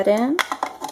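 A plastic part snaps into place on a Munchkin Baby Fresh Food Maker processor, a few short sharp clicks that follow a brief speaking voice.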